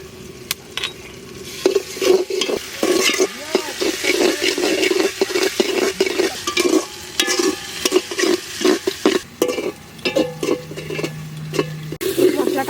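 A ground paste of onion, garlic, ginger, cumin, dried and green chilli and black pepper fries in a pot for a village-style mutton handi, with steady sizzling and repeated scraping strokes of a spoon stirring it close by.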